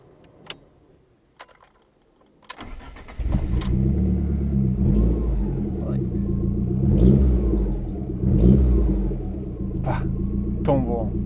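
A Lancia Delta Integrale Evo 2 is started with the key: a few clicks, a brief cranking, then the engine catches and settles into a loud, throbbing idle with small rises in revs.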